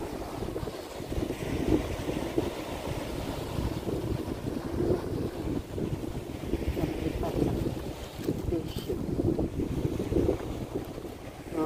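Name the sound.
strong wind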